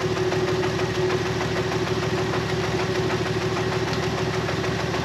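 A fuel pump pulsing on a boat engine that is drawing in air, heard as a steady rapid knocking throb over the engine's idle hum, close and continuous.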